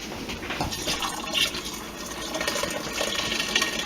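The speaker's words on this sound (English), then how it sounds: "now we're adding the beer mixture to our water" Canadian blonde craft beer kit mixture is poured into a vessel of water, producing a steady splashing gush and trickle that runs for several seconds at moderate, close range.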